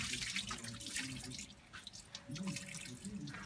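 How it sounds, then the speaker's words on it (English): Water runs steadily at a Buddhist hell-themed shrine in Japan, a continuous splashing trickle like a tap or basin flow, moderately close and fairly soft, with faint background murmur. "No, it's just water."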